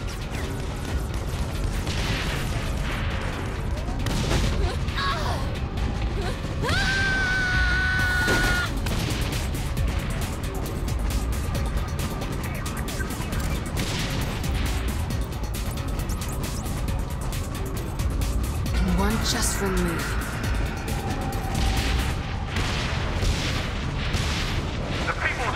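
Gunfire and heavy booms from a battle in Saints Row The Third, with bursts of shots and explosions scattered across a dense, noisy scene, mixed with other effects and occasional voices.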